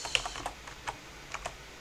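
Someone types account details into an email setup form on a computer keyboard. There are a few faint, scattered key taps at an irregular pace, with no voices.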